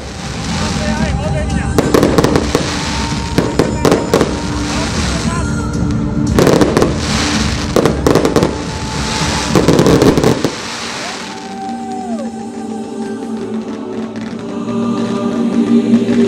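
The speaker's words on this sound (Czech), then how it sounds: "Nočnú oblohu ovládol hudobný ohňostroj." A musical fireworks display bursts over a night town festival, repeated booming explosions and crackling volleys in clusters, loud and close, with music under them and a pause in the bangs near the end.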